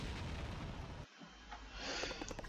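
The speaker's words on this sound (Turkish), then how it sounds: "Bir bomba atsak ne olur? Aa bomba da uçuyor." A bomb bursts in the Serious Sam 2 video game, a loud broadband boom that cuts out briefly before a rumbling, crackling aftermath swells back up, with no talking over it.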